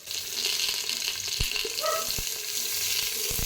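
Onions for chicken biryani fry in a pan with a constant dense, hissing sizzle that stays loud and close, broken by a few light knocks of a utensil.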